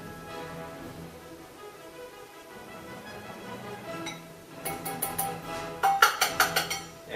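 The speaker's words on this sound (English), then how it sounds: "And now we just stir it up until it's a nice, smooth mixture." Homemade chocolate mixture with cocoa being stirred, a quiet scraping under a low hum that gives way to a burst of rhythmic clinks and taps of utensil against bowl near the end.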